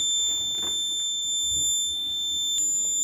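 A coal mine smart helmet sounds its high temperature alarm as steady high-pitched electronic tones that continue through the clip, with a brief sharper beep near the end over low room noise.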